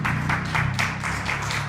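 A church congregation applauds, a dense, steady wash of hand claps swelling in a few rhythmic surges, with a low sustained tone underneath.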